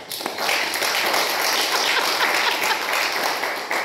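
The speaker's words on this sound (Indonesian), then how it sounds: "Tepuk tangan buat Tuhan." A congregation in church claps for God during a sermon on restoring the household. Loud, dense applause swells quickly and holds steady throughout.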